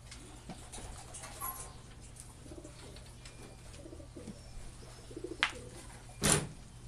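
Pet pigeons or doves cooing softly in a quiet indoor space, low repeated coos with a few brief fluttering or rustling bursts near the end.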